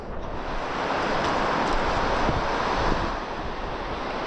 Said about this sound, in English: just the sound of the ocean and a few birds